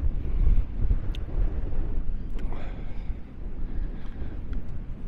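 Strong wind gusts across a beach at Maspalomas, buffeting the microphone in a loud, continuous low roar that rises and falls, with faint talk in the background.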